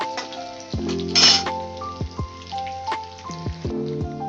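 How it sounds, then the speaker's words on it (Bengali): Garlic stirred in a kadai (wok) for a light garlic and pointed gourd dish, giving close metallic clinks and scrapes of a spoon against the pan over a soft sizzle, in an uneven rhythm. "এরপর একটুখানি কড়ায় ভালো করে নাড়বো যাতে করে রসুনের কাঁচা গন্ধটা চলে যাবে"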